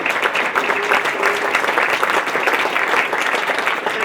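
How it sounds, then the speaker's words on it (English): Concert audience applause for a string orchestra's spring performance in a church space, a full, sustained round of clapping from many people at steady loudness with no talking. "round of applause for Carrie"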